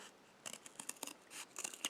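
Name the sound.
scissors cutting a plastic milk bag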